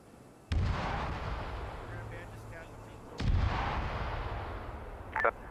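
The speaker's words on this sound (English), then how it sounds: "Mortar rounds on target." Mortar rounds exploding in the Vietnam-era Arma 3 video game, two heavy booming impacts a few seconds apart, each followed by a long rumbling decay, with a sharper pop near the end.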